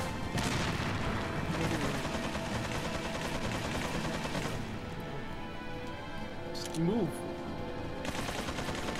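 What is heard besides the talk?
chain gun firing in the video game Resident Evil 4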